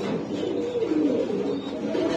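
Butterfly pigeons at a seller's stall coo in soft, rolling, overlapping calls, close and steady throughout, with no one speaking.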